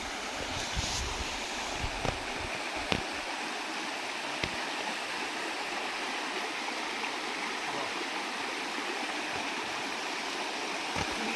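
Mountain stream water flowing from a hillside after a flood, a steady, soft rushing and gurgling that stays even throughout, with a few faint knocks near the start.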